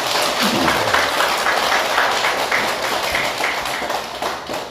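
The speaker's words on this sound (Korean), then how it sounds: "멀리 와주신 법사스님께 큰 박수 한번 보내주시기 바랍니다" Audience applause at a Buddhist lecture honoring a visiting monk lecturer, a dense, steady wash of many hands clapping at close range throughout, fading only slightly toward the end.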